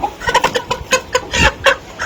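A tiger chicken, a multicoloured breed with thick legs and large eyes, clucks in a quick run of about eight short, close, moderately loud clucks with no talk.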